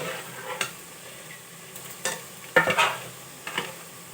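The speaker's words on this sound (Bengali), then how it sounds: "মিশালি তরকারি বসিয়ে দিয়েছি পাঁচ ফোড়ন আর তেজপাতা ফোড়ন দিয়েছি" A mixed vegetable curry fries in a pan with panch phoron and bay leaf, a low steady sizzle broken by a few brief scraping stirs of the spoon.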